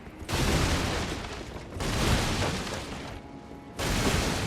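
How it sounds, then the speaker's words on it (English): Loud, booming barrel blasts in the game Elden Ring: Shadow of the Erdtree erupt in quick succession, three heavy explosions with rumbling tails, no voices. "Gigantic barrel explosions."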